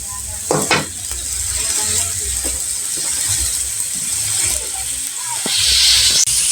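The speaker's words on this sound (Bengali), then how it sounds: "এখন কষাচ্ছি আমি" Potatoes and egg liver being stir-fried in a pan give a steady hiss and sizzle, broken by occasional scraping of the spatula at close range; no one speaks.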